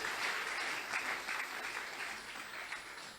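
A church congregation applauding together in loud, sustained clapping that runs steadily throughout, with no speech over it.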